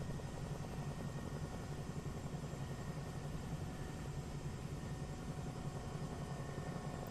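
A helicopter lifting off slowly from a standstill, its rotor and engine giving a steady, continuous drone with a fine rhythmic thump throughout, fairly quiet and unbroken by voices.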